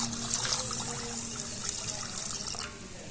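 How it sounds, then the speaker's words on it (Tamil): Water poured steadily over soaked pearl millet in a vessel, a continuous close splashing trickle that runs the whole time without pause, no voices. "தண்ணி ஊற்றி வச்சுக்குவோம்"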